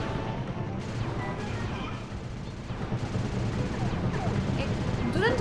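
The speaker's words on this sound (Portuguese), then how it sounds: "Tu estás a tentar destruir pedras com uma metralhadora?" Machine gun fire aimed at rocks in the Sly 2 video game: a sustained, dense rattle of gunfire with crashing impacts, loud and continuous throughout, with a few whooshing effects and a voice talking over it.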